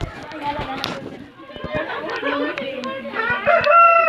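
A rooster crows amid a flock's clucking and chatter, with people talking over the birds nearby.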